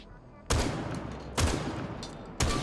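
Buck shotgun in Rainbow Six Siege fired three times, each blast loud, sharp and booming, evenly spaced about a second apart over a steady low background.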